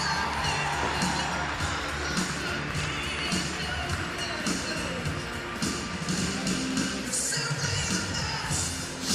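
Dutch horse show championship audience applauding and cheering, a dense sustained wash of clapping and crowd noise with scattered shouts, continuing steadily for several seconds.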